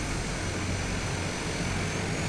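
A Cessna 208 in Microsoft Flight Simulator taxis with its engine running as a steady, dense drone that stays constant and fairly loud, with no voices.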